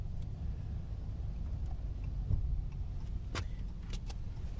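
A car towing a trailer rolls to a stop and parks, its engine a steady low rumble throughout with a few faint clicks near the end.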